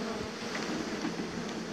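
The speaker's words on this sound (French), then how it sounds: "on fait tomber tous les paquets d'abeilles qui sont possibles de tomber là" A honeybee swarm being brushed down during hive collection gives a dense, loud, steady buzzing drone close by, with no talk.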